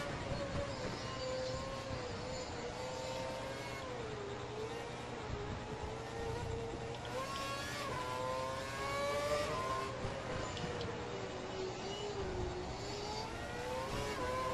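Formula 1 race car engine in the F1 2012 video game at the Singapore Grand Prix, a steady high-pitched whine that rises and falls with gear changes, continuous and fairly quiet throughout.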